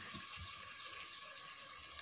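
Water rinses a mixer grinder jar, a steady faint hiss of running water, continuous and close, with soft low knocks underneath.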